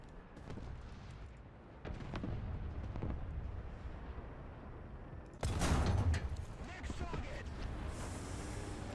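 A tank cannon in War Thunder fires an M82 shell: a sudden heavy boom midway through, preceded by a low engine rumble with faint clanks and followed by a ringing decay, all fairly quiet.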